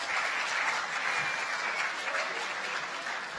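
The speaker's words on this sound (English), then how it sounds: "When would the first applause break out?" Steady, dense applause from an audience at a live-streamed new student orientation, a continuous wash of many hands clapping at moderate distance without any speech over it.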